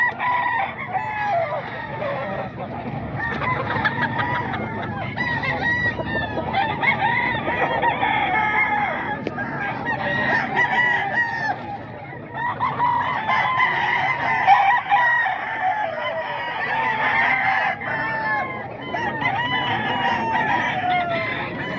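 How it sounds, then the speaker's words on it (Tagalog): Gamefowl for sale at a Bocaue flea market: roosters crow repeatedly amid constant clucking from many chickens, a busy, continuous barnyard chorus with no talking. "Manok ni Boss Ga"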